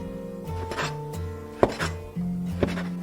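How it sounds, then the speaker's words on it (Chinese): A knife chops folded egg crepe sheets into strips about 3 cm wide for Fujian meat-filled egg skin rolls, giving a few sharp, close thunks on the board over steady background music. "把边角料切掉，切成3厘米左右的宽度。"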